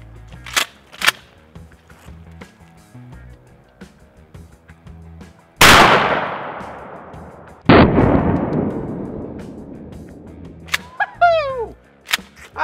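A shotgun fires a 1-ounce high brass slug into a stack of cookbooks: a sudden, very loud blast with a long ringing decay, followed about two seconds later by a second sharp report and its fading tail.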